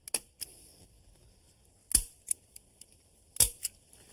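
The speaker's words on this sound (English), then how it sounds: "Now, to hold the zip ties in place, I'm just going to put in a staple" Staples being driven to hold zip ties in place during a water softener repair, a series of sharp snapping clicks in small clusters, close and crisp against quiet surroundings.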